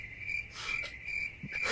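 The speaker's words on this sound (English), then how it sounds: "Insert crickets." A cricket chirp sound effect trills in a steady, high, fairly faint pulse, running alone without voices.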